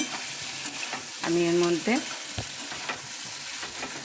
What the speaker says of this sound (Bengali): পেঁয়াজটা যখন একটু ভাজা হয়ে যাবে